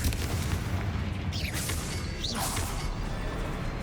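Confringo and Bombarda spell blasts in Hogwarts Legacy fire off in quick succession as booming impacts with whooshing tails, loud over a rumbling game soundscape.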